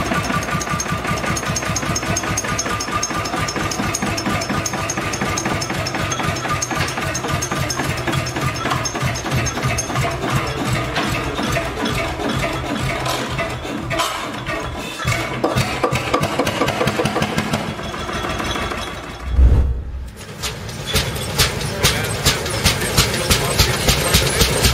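A 1921 Lanz Bulldog tractor engine runs steadily, a loud rapid knocking single-cylinder thump repeating evenly, with a short dip and a sharp bang before the rhythm resumes.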